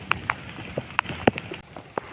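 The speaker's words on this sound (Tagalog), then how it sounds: "Kunti lang kasi inaabot kami ng ulan." Rain falling outdoors near the seashore, heard as scattered close drops ticking and tapping on a surface in an irregular pattern, with no one speaking.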